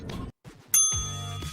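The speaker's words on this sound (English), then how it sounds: "The phone's ringing." A phone ringing sound effect: a single bright, bell-like electronic ring strikes suddenly and sustains with a clear ringing tone, following a short pause after some background noise.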